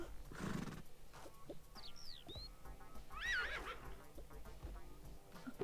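Horse neighs and whinnies in the Toca Life World game, two bright rising calls over soft clip-clop hooves and light background game sounds, fairly quiet throughout.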